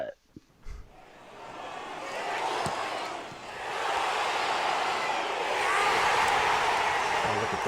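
A crowd-cheering sound effect laid over NFL draft footage starts with a couple of sharp knocks, then swells from quiet into a sustained, broad roar that keeps building to the end.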